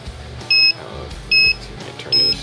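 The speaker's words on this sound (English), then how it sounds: "you hear it beeping, and it's saying switch error" Three short electronic beeps from an RC radio transmitter (TH9X) switch error warning repeat at an even pace, each a clear two-tone bleep, over a quiet background.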